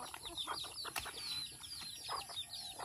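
Soft clucking and chirpy calls come from nearby feeding turkeys, with rustling and a brief flutter of wings among them.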